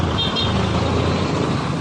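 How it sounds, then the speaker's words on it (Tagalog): Busy road traffic at night in Muntinlupa, Philippines, seen from a motorcycle: a steady rumble of cars and trucks with a short car horn toot near the start. "Gabi na, traffic pa."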